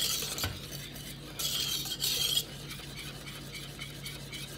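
A spoon or whisk stirs malted yeast into a béchamel sauce that is off the heat, making soft scraping and swishing strokes with a couple of louder bursts in the middle. The sound is quiet and close.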